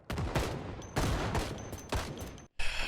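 Gunfire in the video game Project Zomboid: several bursts of rapid shots crack out close and loud in quick succession, pausing briefly between volleys, with no talking.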